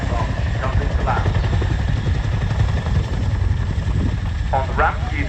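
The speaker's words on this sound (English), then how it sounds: "monitoring the height of the aircraft as she comes into land" An RAF Chinook helicopter at an airshow descends to land, its steady loud rotor and engine roar filling the scene, with a commentator talking over the noise throughout.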